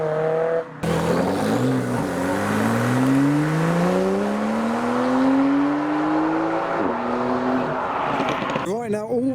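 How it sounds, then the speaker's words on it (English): A Subaru car engine revs hard and climbs steadily through the gears as it speeds past at night, loud and close, with a brief squeal at the end. "All we can hear is a Subaru, so I'm presuming it's a Subaru."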